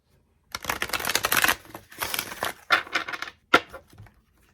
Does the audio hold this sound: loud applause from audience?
no